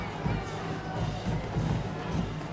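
A football game crowd cheers as t-shirts are fired from a cannon into the stands, a dense, steady roar of many voices with a few louder swells, heard from a distance.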